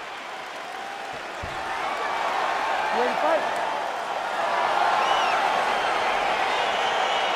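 A video game arena crowd in EA Sports UFC 4 roars steadily at the start of a fight, swelling slightly and holding loud throughout, with commentator and announcer voices speaking over it.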